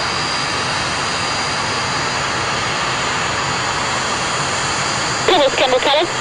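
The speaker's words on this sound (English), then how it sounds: "Conclude his display in the Antonov AN2." An Antonov AN-2 biplane landing at the end of its display at the Kemble air show, a loud steady radial-engine drone throughout, a public-address voice briefly heard near the end.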